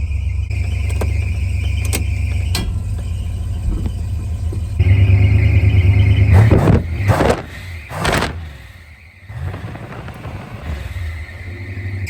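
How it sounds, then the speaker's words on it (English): A 1964 Chrysler Newport runs with a heavy low rumble, then sharp, loud squeals cut in and out in a few bursts before the engine settles back to a steady drone. "Awful, obnoxious, terrible squealy noises aside, this is amazing."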